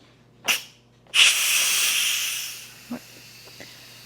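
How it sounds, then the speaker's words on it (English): Steam hissing from a pressure cooker quick release while making pasta all'amatriciana, a short burst then a loud sustained hiss lasting over a second before tapering off, followed by a couple of small clicks. "We are going to quick release this, which is why I have these on right now, because it's going to be hot, it's going to be steamy"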